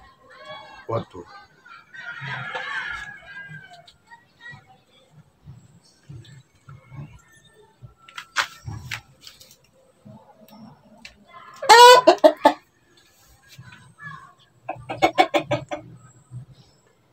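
Roosters cluck in short bursts and crow loudly a few times, with pauses between calls and some talking in the background.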